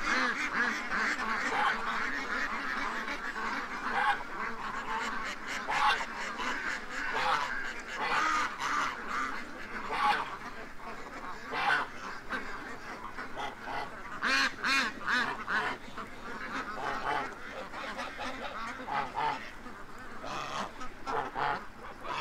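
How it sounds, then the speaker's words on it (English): A flock of ducks and geese quacks and honks in the morning, overlapping calls rising and falling steadily at moderate distance, with no talk over them. "Come on, ducks."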